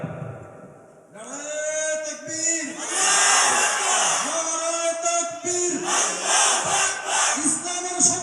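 Large crowd chanting a slogan in unison, a leader's voice calling out and many voices answering in loud repeated rhythmic shouts.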